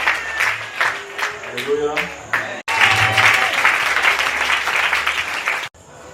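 Church congregation applauding and acclaiming the Lord during a worship service, a dense wash of clapping that swells, cuts briefly and resumes, mixed with voices calling out over it.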